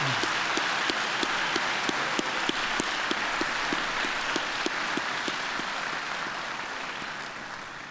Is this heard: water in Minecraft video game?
no